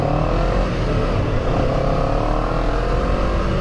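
Motorcycle engine droning steadily up close while riding through a dense Lebaran homecoming traffic jam in Indonesia, loud and continuous with wind and road noise.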